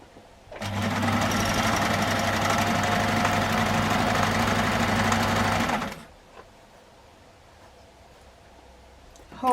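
A sewing machine stitches a straight seam on a crossbody shoulder bag, running as a steady, loud, close mechanical whir for about five seconds before stopping, followed by quiet handling noise.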